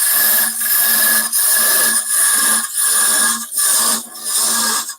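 A wood lathe spins a wooden bird-shaped box while a turning tool cuts it, giving loud, steady whirring passes broken by a regular rhythm of short dips as the tool rides on and off the wood.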